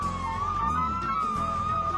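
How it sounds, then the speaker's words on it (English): Emergency vehicle sirens wail during a holiday parade of lights, a steady high tone with a rising and falling wail from a nearby vehicle over low rumbling engine noise. "I hear sirens here, and that usually tells me that we might have like maybe a fire department or something like that coming our way"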